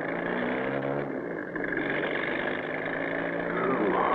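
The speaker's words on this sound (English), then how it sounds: "The driver starts the motor and away goes the truck." A truck engine starts and runs steadily as the truck drives away, a low, continuous rumble holding fairly loud and even throughout.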